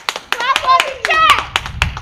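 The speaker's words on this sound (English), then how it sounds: "Clap for the chair!" An audience in a comedy drama claps in quick, scattered hand claps, heard close and mixed under loud, excited shouting voices.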